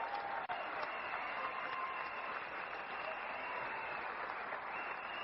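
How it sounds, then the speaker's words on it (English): An audience claps steadily and densely from start to finish, a sustained wash of many hands with no break. "We all would like to put our hands together and give you a big clap."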